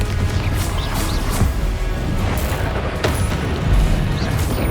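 Fiery Confringo spell blasts in Hogwarts Legacy combat burst as repeated loud booms and crashes through a dense, noisy battle, with no voices.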